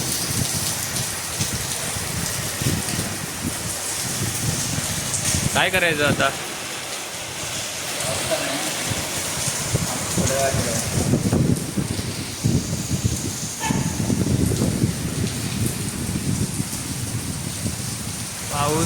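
Heavy rain driven by strong wind lashes down in Ambernath, making a loud, unbroken roar and spatter up close, while people talk briefly over it now and then.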